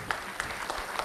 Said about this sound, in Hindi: तो इन सभी के लिए एक बार ज़ोरदार तालियां हो जाए